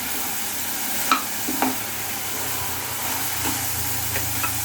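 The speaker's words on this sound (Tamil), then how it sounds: "இப்போ வந்து நல்லா வதங்கிடுச்சு இந்த சுரக்காய் வந்து நல்லா எண்ணெயில் வெந்துருச்சு" Bottle gourd sautés in oil for chutney, a soft continuous sizzle and hiss close by, punctuated by a few sharp spoon taps and stirring scrapes.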